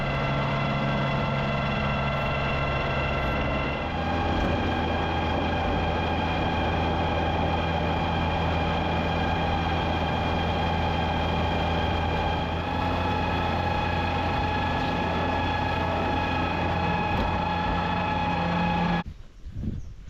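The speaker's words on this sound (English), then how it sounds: "I'll back in the tractor and get at it." A farm tractor's engine runs steadily while backing in before hay cutting, a constant low droning hum with a harmonic whine that lifts slightly partway through, then cuts off abruptly near the end.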